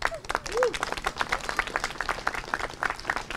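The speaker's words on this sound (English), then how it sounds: "Please give them a round of applause." A crowd applauds township leaders at a Ramadan lighting ceremony in East Brunswick, steady clapping from many hands, moderately loud, with a short vocal whoop near the start.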